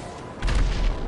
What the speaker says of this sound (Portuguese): também tá matando o cara a pé com um tiro.